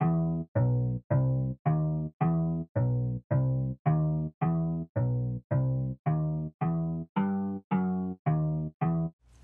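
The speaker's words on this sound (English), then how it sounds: "the last melodic thing I added was this string, again, from my one-shot kit." A string one-shot from a sample kit played in FL Studio, sounding as a bouncy series of about eighteen short, evenly spaced plucked notes that follow bass-note pitches, loud and close with no talking.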